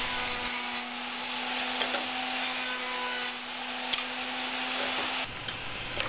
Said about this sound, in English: Next I round the edges of the slats just using a 1/4 round bit on the router.